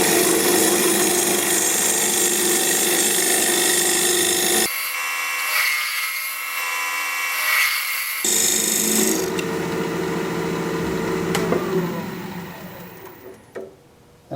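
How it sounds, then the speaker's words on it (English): A 3/8 inch bowl gouge cutting a recess into a wooden piece spinning on a lathe, giving a loud, steady scraping roar with a constant motor hum that briefly shifts in tone midway, then fades toward the end. "I'm going to use a 3/8 inch bowl gouge to make that recess."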